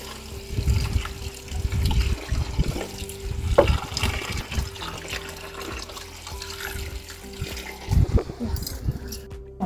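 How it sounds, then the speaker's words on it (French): Water is poured into a kitchen mixer before grinding a paste, heard as intermittent splashing and trickling with low bumps and knocks, moderately close. "on remet un peu d'eau pour le broyage"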